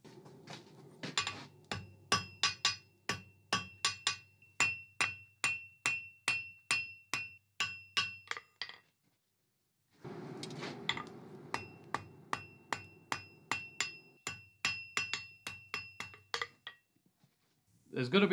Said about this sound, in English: I can forge a scarf on the end of this little nub of material